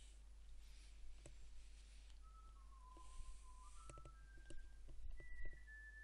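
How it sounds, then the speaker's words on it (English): A person whistles a few faint, thin tones in short rising and falling phrases, with scattered soft clicks and a low steady hum underneath in a quiet setting. "Whistling."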